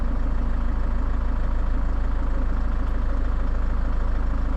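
A Range Rover Evoque engine idles steadily with a constant low rumble close by, and no other sound stands out.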